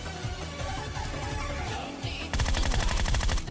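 In the PUBG Mobile video game, gunfire comes as a loud, rapid burst of shots near the end, following a stretch of rumbling game noise.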